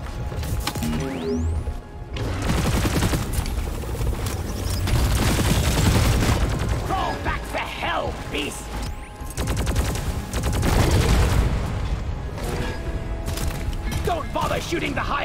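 Dense, continuous video-game gunfire in Deep Rock Galactic as players shoot at a Hive Guard, rapid automatic fire mixed with booms and mechanical clatter, with voices talking over it throughout.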